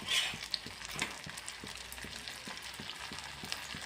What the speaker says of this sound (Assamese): এনেদৰে বাকীকেইটাও ভাজি ল'ম।